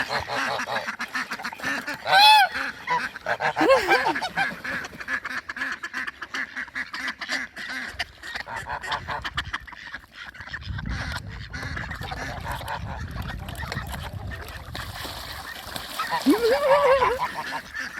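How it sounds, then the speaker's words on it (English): Ducks and geese honk and quack around a backyard pool, with steady splashing and water churn throughout, a few louder close calls, and a person talking faintly in the background. "And the ducks and the geese right for the pool."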